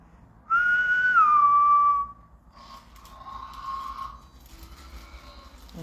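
A person whistles a single long, bright note in answer to a request, holding and then dropping the pitch, followed by quieter, fainter whistled tones against near silence.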